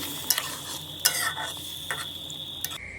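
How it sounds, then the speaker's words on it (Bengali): Rohu fish pieces being stirred through spices in a frying pan, with a steady sizzle and scattered scraping clinks of a utensil against the pan. "এখন এই মাছগুলো মশলার সাথে একটু কষিয়ে নেব।"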